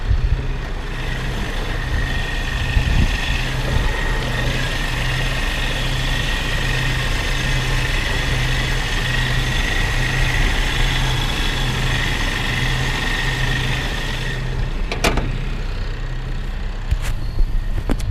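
A carbureted 1984 Toyota 4Runner engine idles steadily close by, a low throbbing rumble with an even pulse, alone with a couple of faint clicks near the end.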